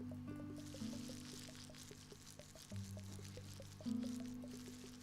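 Water pours steadily into an aquarium tank in the video game Chillquarium, a soft continuous trickle with light drips under gentle background music.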